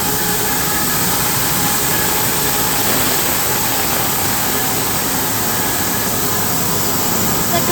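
Diesel locomotive NR85, an NR class engine, running with a steady, loud broadband rumble and hiss that holds evenly throughout, with no talk.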